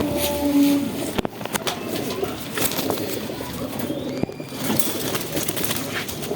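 Soft, low coos of golden cross-bred pigeons close by, mixed with rustling, scratchy movement and occasional sharp clicks.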